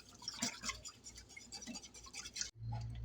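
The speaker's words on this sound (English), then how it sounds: "Just whisk it for a little while." Quiche mixture whisked in a bowl, quick faint rhythmic ticking and scraping of the whisk close by, ending in a brief low hum.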